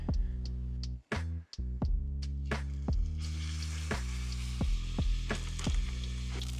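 Pierogies fry in a pan with a continuous close sizzle, broken by a series of sharp scraping and stirring knocks from a utensil against the pan, spaced irregularly over a low steady hum.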